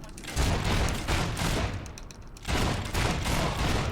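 Rifle gunfire in the video game Fable 3, loud rapid bursts of shots roaring almost without pause, briefly easing around the middle before another dense volley.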